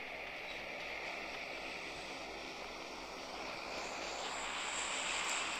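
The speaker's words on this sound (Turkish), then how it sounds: "Uçağımız da geldi." A transport plane drones overhead in the mobile game PUBG Mobile, a steady, faint engine hum with a hiss that keeps on without a break.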